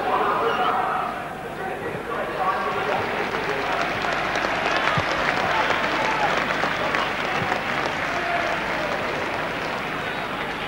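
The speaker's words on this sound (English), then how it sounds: "Round of applause from the crowd as Robert Allarthorne is carried off." A football crowd at a 1991/92 Luton Town match applauds as an injured player is carried off, a sustained broad wash of distant clapping and crowd noise heard under a commentator's voice.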